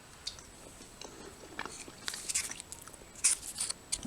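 Close, quiet chewing and biting on a tortilla spread with peanut butter from a Canadian military ration, soft crunchy bursts repeating irregularly with no talking.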